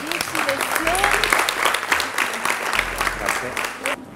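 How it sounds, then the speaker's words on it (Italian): A studio audience claps for the chef at a televised cooking academy class, with steady applause running under a voice throughout. "Fare un grandissimo applauso al nostro master chef che è Cristian Pratelli"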